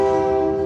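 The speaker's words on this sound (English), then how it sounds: "this is gonna be a train." A train horn blasts at an unguarded rail crossing with no crossing arms, one steady sustained tone held loud and close with no pause.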